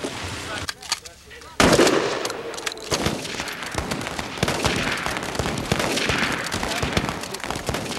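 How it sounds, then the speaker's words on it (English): FBI trainees firing shotguns on an outdoor range, a rapid series of sharp overlapping blasts after a quieter opening, continuing densely throughout. "the trainees take their shotguns out to the range for the first time"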